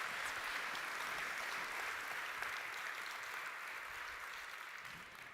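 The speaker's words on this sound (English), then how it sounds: "Another round of applause, please" Sustained audience applause fills a large hall at a global AI summit's main stage, a steady dense wash of clapping after a performance that fades slightly toward the end.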